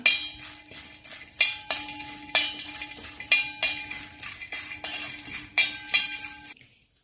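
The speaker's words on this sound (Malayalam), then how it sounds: "ഒരു ടീസ്പൂൺ പഞ്ചസാര ചേർത്ത് ഇളക്കി കൊടുക്കാം." Sugar stirred into a cornflakes snack mixture in a pan, a spoon striking and scraping the metal in regular ringing clinks about every half second, close and clear, ending in silence.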